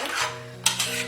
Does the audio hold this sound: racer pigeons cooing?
no